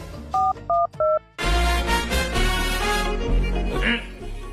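A phone number is keyed in with three distinct DTMF tones, each a short, clear beep. A loud burst of background music then starts and continues.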